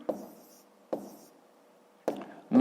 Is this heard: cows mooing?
no